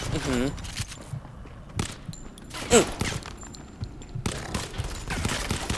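Gunfire from the mobile shooter game Modern Combat 5 crackles in bursts between quieter gaps, with brief weapon effects and a steady game background, no speech over it.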